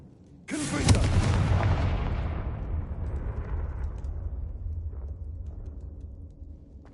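A spell blast from the Hogwarts Legacy video game erupts into a loud, booming explosion that rolls on as a long rumbling tail, slowly fading over several seconds.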